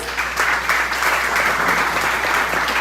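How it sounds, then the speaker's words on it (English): Audience applause at a Gaelic ceilidh evening, a steady wash of many hands clapping at close range, sustained and even for the whole stretch with no talk over it. "so please give him a round of applause."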